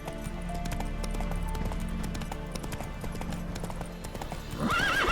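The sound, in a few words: horse Roach trotting, from video game The Witcher 3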